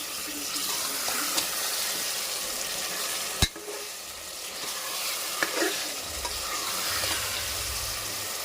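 Marinated mutton coated in salt, chilli powder, turmeric and yogurt goes into frying ginger-garlic paste, producing a moderate sizzle with stirring, a sharp clank and a watery bubbling rush near the end, with no speech.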